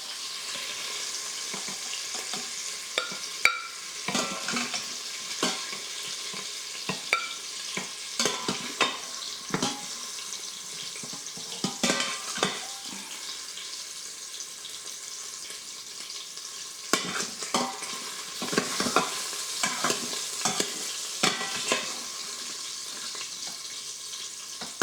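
Sausage cooking in an Instant Pot for red beans and rice, a steady sizzle and fry with irregular scraping clatters of stirring throughout, close and moderately loud.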